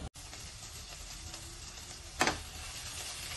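Frying in a pan while cooking a home-cooked evening dish, a steady faint sizzle running throughout with a brief louder burst of spitting partway through, no talk.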